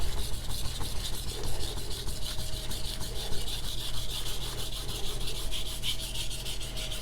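Steady, close rasping of a knife blade being thinned on a 1K whetstone, a continuous rhythmic gritty scrubbing with no voices.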